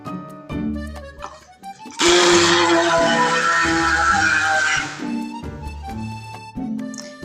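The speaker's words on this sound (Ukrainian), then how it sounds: "Перекладаємо моркву в чашу і збиваємо блендером." An electric blender purées boiled carrots in a bowl, a loud whirring burst of about three seconds set between softer passages of music, with no speech over it.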